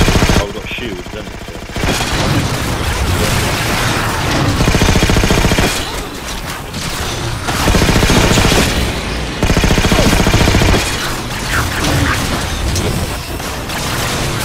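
Rapid gunfire and booming shots from a Halo 4 firefight, including battle rifle bursts, keep up a loud, dense clatter almost throughout, with players talking under the shooting.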